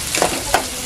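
Shallots fry in oil for banana-leaf fish pollichathu, a close continuous sizzle punctuated by three quick stirring scrapes of a utensil against the pan.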